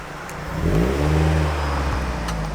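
A Mazda Miata with a pops-and-bangs tune passes by close and loud, its engine note swelling and rising as it accelerates through with no voices.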